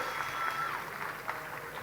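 A seminar audience at an Earth Classes motivation event giving a brief round of clapping, a soft, somewhat distant patter of many hands that stays fairly even and fades quickly.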